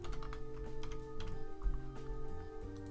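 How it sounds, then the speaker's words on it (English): Quick, light keystrokes on a computer keyboard form a steady run of small clicks over a low, sustained game background hum, with no talking. "Let's just type in gasoline."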